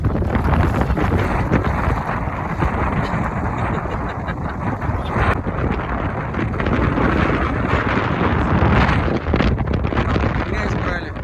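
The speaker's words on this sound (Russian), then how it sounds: "Ветер очень сильный." A strong wind blows by the sea at a bird island near Yeysk, a loud, continuous roar and buffeting on the microphone that runs through the whole stretch, with voices faintly under it.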